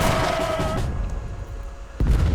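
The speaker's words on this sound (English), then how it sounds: "they're going to use some mortars to try to shell their way" Mortar artillery fire in the real-time strategy game Age of Empires 3 Definitive Edition, a deathmatch battle: a loud booming shot fades into rumble, and a second heavy blast hits near the end.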